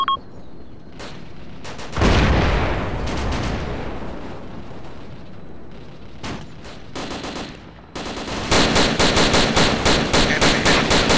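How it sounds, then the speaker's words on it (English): Machine gun fire in the video game ARMA2 comes as repeated loud automatic bursts and rattling volleys, with heavy rolling battle noise between them and a sustained rapid burst near the end. "Machine gun."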